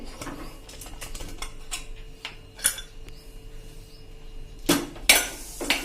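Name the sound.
opening the pressure cooker lid after releasing pressure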